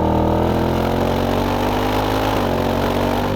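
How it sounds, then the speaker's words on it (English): A Ford Mustang Dark Horse engine is taken up into the rev range on a drive, producing a loud, steady, close-up drone whose pitch climbs slightly as it revs. "Let's get it up in the rev range, see what happens."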